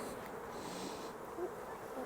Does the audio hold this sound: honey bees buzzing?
yes